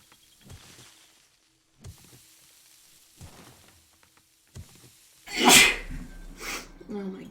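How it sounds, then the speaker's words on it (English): A person sneezes several times in a row while digging a pool in 7 Days to Die. Three or four short, sharp sneezes are spaced a second or so apart, then a louder burst, with some speech mixed in. "How many times can one person sneeze?"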